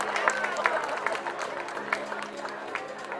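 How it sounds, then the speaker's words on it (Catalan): At a festival verbena dance hall, a crowd applauds the first dancing couple with sustained, dense clapping and scattered cheers, an announcer's voice carrying over the noise. "Un fort aplaudiment pels primers balladors de la sala."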